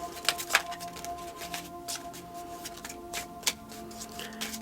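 Tarot cards, only the major arcana, are shuffled by hand. Soft papery riffles and slides come in short irregular bursts with a few sharper snaps, close and quiet, with no voices.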